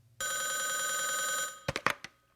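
A telephone bell rings loudly and continuously for over a second in an indoor setting, then stops abruptly, followed by a few brief clattering knocks like a handset being picked up.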